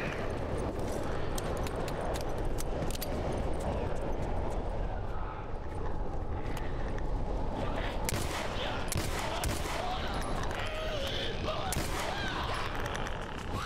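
Rapid gunfire in The Last of Us Remastered: Left Behind, with dense bursts of shots and sharp cracks continuing steadily, several louder close shots standing out near the end.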